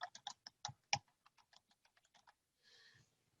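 Typing a search on a computer keyboard: a quick run of light, close key taps at an uneven rhythm, followed by a brief soft rustle.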